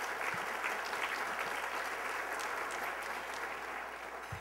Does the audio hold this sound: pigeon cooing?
no